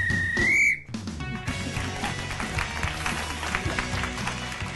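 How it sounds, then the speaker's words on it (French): A referee's whistle at an improv match gives one sharp, loud blast lasting under a second, followed by a crowd cheering and clapping. "Ah oui, traditionnel coup de sifflet d'arbitre."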